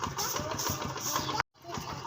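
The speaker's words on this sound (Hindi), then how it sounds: "तो नबीहा बाइक पे बैठ के अपने चाचू के साथ गई" Motorbike engine running steadily nearby in an open courtyard area, a continuous rumbling drone that cuts out briefly near the end before resuming.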